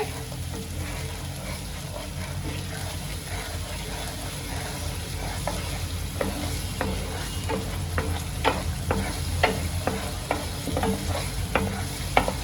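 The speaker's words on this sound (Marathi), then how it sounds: "आता ह्याला मी तेलामध्ये चांगलं परतून घेते" Cashews, onion, garlic and ginger sautéed in oil over a low flame for paneer masala, a soft continuous sizzle with a spatula scraping the pan in quickening rhythmic strokes, close by.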